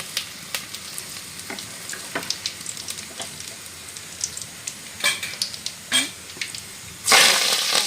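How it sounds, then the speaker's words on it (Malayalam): Dried red chillies drop into hot oil for a gooseberry pickle tempering. Scattered crackles and pops run over a low sizzle, then a loud burst of frying near the end, all close by with no talk. "രണ്ട് മൂന്ന് വറ്റൽ മുളക് ഇട്ട് കൊടുക്കാം"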